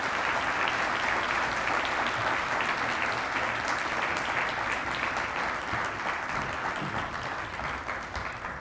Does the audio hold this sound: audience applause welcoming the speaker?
yes